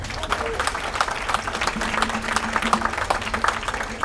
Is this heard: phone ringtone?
no